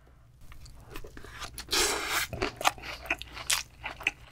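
Crunchy bites and wet chewing of a mixed raw fish rice bowl with vegetables (hoedeopbap) made with yellowtail sashimi, close and crisp, in irregular bursts with no talking.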